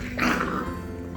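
Foster puppies growl and snarl while biting and tearing at hair, a short close rough rumble with a brief louder burst near the start.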